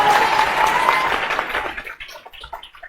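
An audience at a Republic Day gathering applauds a teacher with loud, dense clapping that gradually thins out and fades into a few scattered claps.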